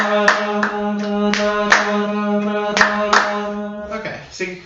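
Sharp hand claps land in a dotted rhythm over a steady sung tone, close and clear. Several people sing the subdivision throughout, and the claps fall on accented beats until the singing breaks off near the end.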